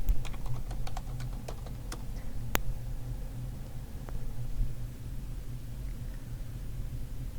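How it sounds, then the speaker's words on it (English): Typing search terms on a computer keyboard in a library setting: a quick burst of distinct key clicks at first, then sparser taps over a low room hum, close and fairly quiet. "type in your search terms"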